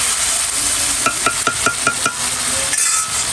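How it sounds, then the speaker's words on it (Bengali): Egg curry masala being stirred and sautéed in a pan, with a steady close sizzle and a quick series of spoon clinks against the metal partway through. "একটু ঝোল দিয়ে হালকা কষাচ্ছি"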